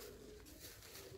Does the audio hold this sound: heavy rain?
no